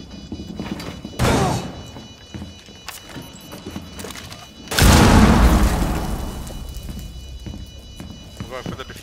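A Claymore mine blast in Rainbow Six Siege during a bomb-defuse round on Kanal, one loud booming explosion with a long rumbling tail after an earlier thump, no talk over it.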